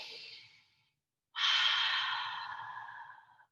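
During a kids' yoga class, a soft breath trails off, then after a brief silence a single long, deep breath rushes in close to the microphone and fades slowly.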